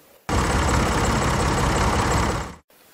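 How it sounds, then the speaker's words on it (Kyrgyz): A tractor engine abruptly catches and runs with a loud, steady rumble for a little over two seconds, then cuts off suddenly to near silence. "Түнөргөн бойдон тракторго барып, от алдыргычты жулка тартты. Мотор күрр этти."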